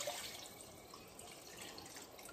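Coconut juice being poured into a pot of chicken curry, a steady liquid trickle and splash running throughout, fairly faint and continuous with no talking.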